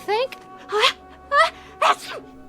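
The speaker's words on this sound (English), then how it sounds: "Gesundheit." Several short voiced bursts from one person in a radio drama, four quick sneeze-like outbursts in rapid succession with breathy gasps, loud and close.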